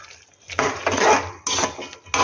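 A utensil scrapes and knocks against a pot while neem sukto vegetables are stirred, a few short close bursts separated by brief pauses.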